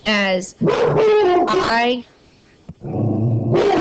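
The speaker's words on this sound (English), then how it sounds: "that was my dog barking at something" A pet dog barking at home, several sharp close barks in quick bursts with whiny yips, followed by a pause and a person speaking.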